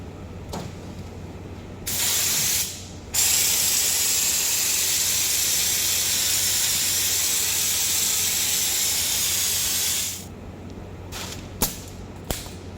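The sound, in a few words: spray gun dusting on an epoxy bedliner coat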